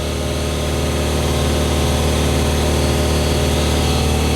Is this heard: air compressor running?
yes